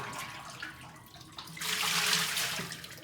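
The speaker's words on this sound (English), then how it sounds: "So pour it into our tilting pot." Olive and coconut oil pouring steadily into a tilting pot for a large batch of cold process soap, a continuous splashing rush that swells louder midway and carries on alone without talk.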